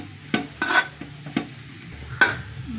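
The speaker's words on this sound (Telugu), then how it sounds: "ఇది బాగా వేగింది కదా కొంచెం కళాయిని అంటుకుంటుంది కదా" Vegetables for cutlets fry in a kadai while being stirred, with a soft sizzle beneath several distinct scraping knocks of a spoon against the pan.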